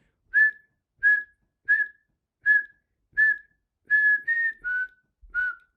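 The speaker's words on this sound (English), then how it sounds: "It's a flute or a recorder. I'm not sure which." Recorder or flute playing the refrain of a 1969 album track: a short phrase of clear, pure, breathy detached notes in a steady rhythm, played alone with no talking.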